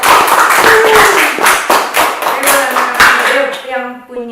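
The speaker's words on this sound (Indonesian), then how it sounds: "kita tepuk tangan dulu buat" An audience at a political talk event applauds in a loud, dense stretch of clapping that tapers off near the end, with voices and a brief tonal sound rising underneath as it fades.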